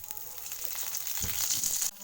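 Cumin seeds and curry leaves sizzle in hot oil, a bright continuous crackle that swells toward the end, then cuts off abruptly.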